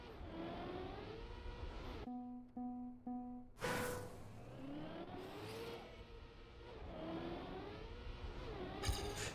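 Race cars in a racing video game drone and rev up close, pitch rising and falling, then drop away to a brief menu-like tone before the engines return. Nobody speaks.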